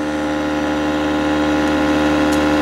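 Bucking field reluctance motor running under brake load, giving a steady, loud electric hum with a constant tone and a faint mechanical buzz, and no change over the short stretch.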